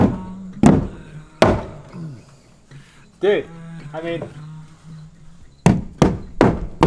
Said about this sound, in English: I don't think you can handle a hammer this big